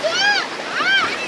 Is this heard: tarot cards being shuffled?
no